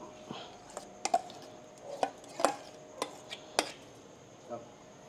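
Ingredients for Ilocano dinakdakan being stirred in a bowl, giving a series of sharp, close clinks and taps at uneven intervals over a soft background.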